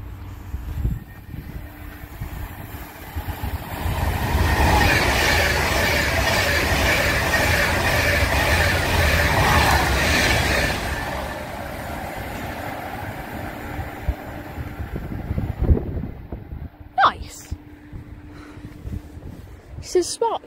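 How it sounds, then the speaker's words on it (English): A Pendolino train rushes past a station on the Trent Valley line at Rugeley, its roar building, peaking for several seconds and then fading, with clicks and rattles as it recedes. "we're going to watch this last pendolino"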